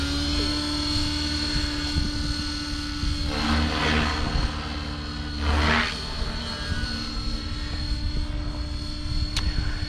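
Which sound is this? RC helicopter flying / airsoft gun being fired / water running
RC helicopter flying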